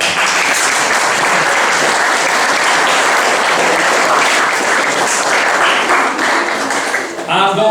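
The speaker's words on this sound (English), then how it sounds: "Round of applause for that." Wedding guests applauding in a sustained, lively round of clapping that fills the room evenly, tapering slightly as a voice begins to speak right at the end.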